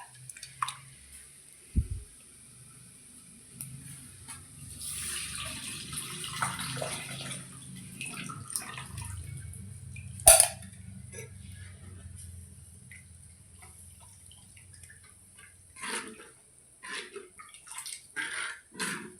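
Tamarind water is poured into a pot of sardine curry with splashing and dripping, quiet and close, followed by scattered clinks and light movement.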